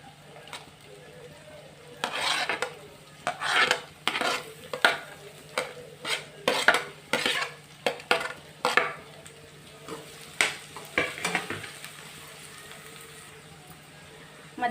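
Cabbage, beans and carrot sizzling in a pan as a spoon stirs them, a steady frying hiss broken by repeated scraping strokes against the metal, close and fairly quiet.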